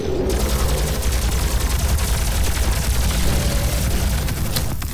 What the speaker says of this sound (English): Well, fuck it, we're gonna use this plasma rifle.